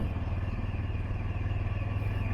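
A recently serviced motorcycle runs along a road, its engine putting out a steady, close, pulsing drone for a couple of seconds with no talk.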